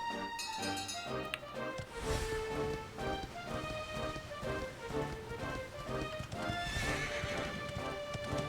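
In the Dragon Quest XI video game, a horse whinnies and then gallops with rhythmic clip-clopping hooves over game music, loud and steady throughout, with no talking.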